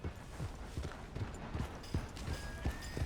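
Steady clip-clop of horse hooves walking in the Red Dead Redemption 2 video game, an even rhythmic beat of close hoofsteps over a continuous ambient bed.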